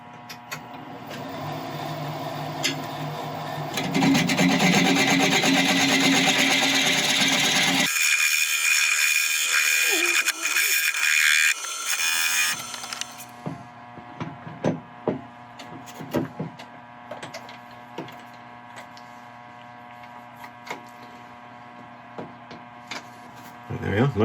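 A wood lathe turns the outside of a wooden piece, its motor humming under bursts of loud scraping and cutting, followed by a calmer stretch of steady hum punctuated by intermittent tool taps and scrapes.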